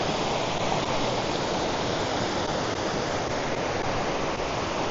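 Rushing river and waterfalls at Ingleton, North Yorkshire, where the water has carved through the rock: a steady, loud, unbroken roar of falling and churning water, close by and alone without any voices.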